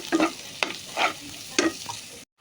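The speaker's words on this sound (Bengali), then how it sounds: "ভালো করে নাড়াচাড়া করে নিচ্ছি।" Fried rice with fried eggs and a little spice being stirred in a pan, a few distinct scraping strokes spaced about half a second apart over a light sizzle, close and fairly quiet, ending in sudden silence.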